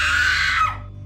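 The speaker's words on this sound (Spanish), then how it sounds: "escuché un grito en el jardín" A loud, piercing scream rings out in a garden in a horror story, one shrill sustained cry that cuts off sharply after well under a second.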